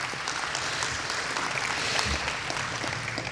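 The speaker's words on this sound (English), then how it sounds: "We can clap for them too." An audience at the NASA Space Apps Challenge 2019 finale in Huntsville, Alabama, claps steadily in a large room. The applause is a dense, even wash of hand claps that stays at a constant level throughout, with no talking over it.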